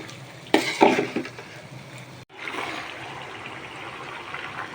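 Boiling-hot water is poured into rice frying in oil for chicken biryani, a sudden loud splashing burst that fades into a steady bubbling, seething hiss after a brief cut.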